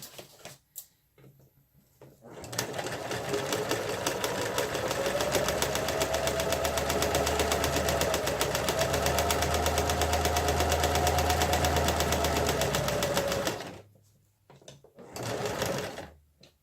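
A sewing machine stitches fabric for a zipper pouch in one long, steady run of rapid needle clatter up close, with brief quiet handling noises before and after.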